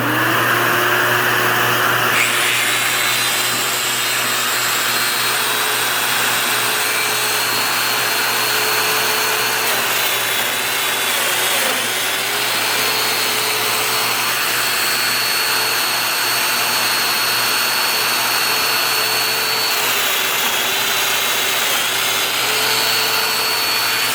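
A domino joiner cuts mortises in wood for a farmhouse table build, giving a loud, continuous close-up motor whine with dust-extraction roar that holds steady throughout.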